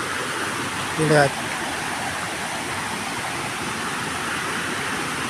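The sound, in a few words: flowing river stream, Sungai Situhiang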